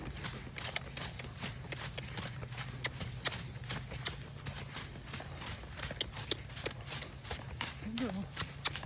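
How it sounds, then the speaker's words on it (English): A horse trots in a slimy, rain-soaked riding ring, its hooves making a steady, fast clip-clop rhythm throughout, moderately close, with a voice faintly present at times. "Here she is at the trot."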